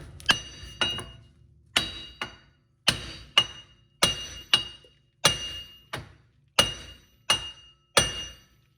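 Repeated hammer strikes ring out sharply as a front hub bearing is knocked out of a 2010 Town and Country, about a dozen loud metallic blows at an uneven, deliberate pace.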